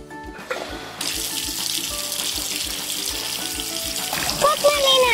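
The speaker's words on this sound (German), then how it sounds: "Dafür schließen wir jetzt den Wasserschlauch an. Und jetzt machen wir das Wasser an." Water from a garden hose starts spraying through a toy palm-tree fountain, a sudden steady hiss and splatter outdoors, with a voice and playful chatter over it.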